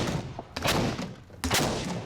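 A homemade designer-style leather cannon fires twice, each shot a sharp, loud blast about a second apart, followed by a short rumbling decay in the open air.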